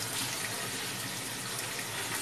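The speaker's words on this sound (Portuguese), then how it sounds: "resolveu esvaziar a caixa d'água e lavar a caixa d'água por dentro" Water gushes steadily as a household water tank is drained and emptied, a continuous close rushing flow with no talk over it.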